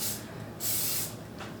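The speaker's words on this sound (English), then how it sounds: "A nice even spray. Nothing too excessive," Cooking spray is sprayed onto a cake pan in three short hissing bursts, the middle one the longest, heard close with no one talking.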